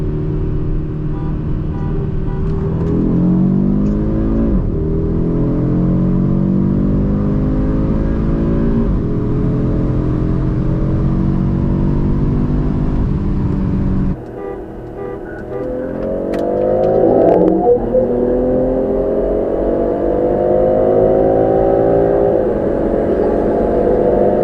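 A 2024 8Y Audi RS3 and a BMW M340i xDrive race side by side, their engines roaring loudly and steadily with rising pitch through the gears. A brief dip near the middle marks a shift before the pull resumes.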